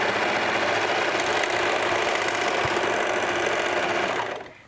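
A sewing machine stitches the set-in sleeve seam of a garment at a steady, continuous whir, running close and loud for about four seconds before slowing and stopping at the end.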